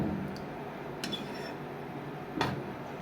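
A utensil stirring potato korma in a pot, with a few quiet metallic clinks and scrapes spaced apart over a soft background.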